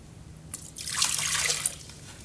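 Water for grits is poured out into a measuring cup in a short, quiet splashing stream lasting about a second.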